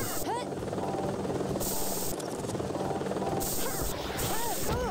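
A helicopter arriving in the video game Jet Set Radio HD: a loud, continuous rotor roar with whooshing sweeps, mixed with game effects and heavy, unbroken noise.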